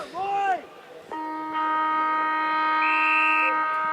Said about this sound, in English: goes the siren to start the final quarter